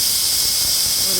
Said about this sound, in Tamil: பாருங்கள், விசில் வந்தாச்சு.